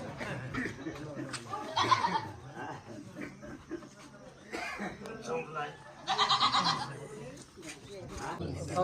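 A goat being led toward a village temple for a worship ritual bleats in a couple of loud bursts, amid people talking and commotion around it.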